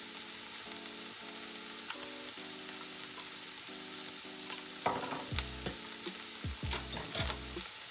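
Cabbage and other vegetables cook down in a pan for a low-carb keto dish, a constant close sizzle and crackle with a steady hum underneath, and stirring scrapes breaking in during the second half.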